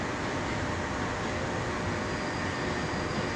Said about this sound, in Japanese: まもなく9番線に水上からの快速電車到着いたします。